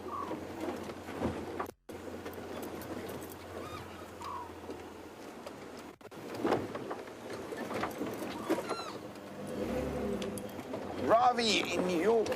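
An owl calls from a jackalberry tree at sunset on an African safari, giving a few soft low hoots at a distance among other birds, while voices talk over them.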